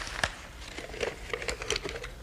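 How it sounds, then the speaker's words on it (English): A sheet of paper being crumpled up by hand, several quick close crackling crinkles spread over a couple of seconds in a quiet room. "Would you crumple it up and put it in that flask?"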